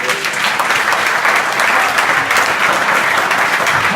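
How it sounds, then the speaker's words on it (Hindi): Loud, sustained applause from a crowd of school students, dense steady clapping filling the whole stretch without a break. "इनके लिए तो जोरदार ताली"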